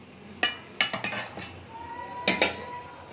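Cooked rice being served from a pot, several sharp metallic clinks and scrapes of a utensil against the pot in small clusters, fairly close, with a faint voice in the background.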